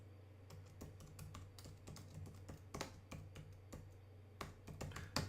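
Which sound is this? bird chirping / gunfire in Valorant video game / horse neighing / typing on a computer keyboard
typing on a computer keyboard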